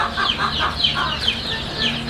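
Chickens and young chicks of a three-way cross of naked-neck, Phu Phan black and Vietnamese big-foot breeds, about 3 to 7 days old, cluck and peep continuously in a nursery cage, with repeated close chirps over a low steady hum.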